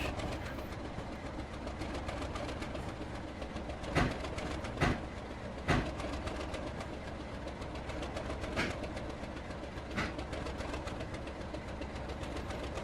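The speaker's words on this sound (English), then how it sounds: "we are probably waiting for another train to come down the branch" A train passes on a branch line in Roblox, GCR, with a continuous low rolling rumble and several sharp clanks from wheels over rail joints spaced through the pass, steady and fairly close.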